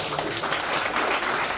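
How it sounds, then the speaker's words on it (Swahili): A church audience claps together in a dense, steady wash of applause, loud and continuous throughout with no gaps. "jipigie makofi mzuri"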